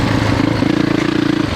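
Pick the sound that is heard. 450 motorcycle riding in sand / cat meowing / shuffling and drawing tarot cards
450 motorcycle riding in sand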